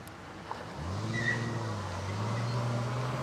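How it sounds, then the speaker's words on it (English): Car tires screech on a city street near a cyclist, a rising squeal with a steady low engine tone beneath, starting abruptly after a brief quiet and holding loud for a few seconds. "you can hear the tires screeching"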